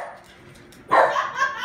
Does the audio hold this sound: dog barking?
yes